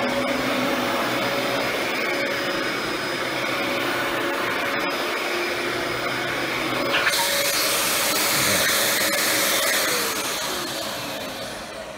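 Dyson DC14 Animal upright vacuum cleaner with its brush roll engaged: a loud continuous motor whine that shifts in pitch and brightens partway through as the brush roll starts, then sustains, with no talking.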